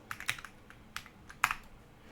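Command being typed on a computer keyboard: a short irregular burst of crisp key clicks with a few louder strokes, close up and without speech.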